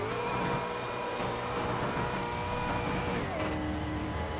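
Race car engine in a racing video game, a steady loud droning roar that runs continuously without pause, with shifting engine pitch and no talk over it.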